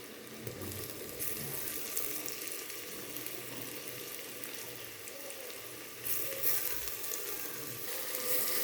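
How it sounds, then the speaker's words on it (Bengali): Sliced onion frying in a pan until lightly reddened gives a steady, moderately quiet sizzle with faint stirring, continuous throughout with no talking. "পেঁয়াজটা হালকা লাল লাল করে ভাজা হয়ে গিয়েছে।"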